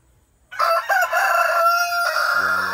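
A young Thai-American fighting cock of about three kilograms crows loudly and close by in one strained call, followed by a short clucking tail.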